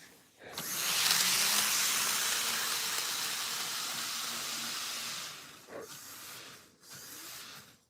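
A BNSF train arrives with a loud, broad hissing rush that swells and holds for several seconds. It then fades into a few softer, uneven gusts.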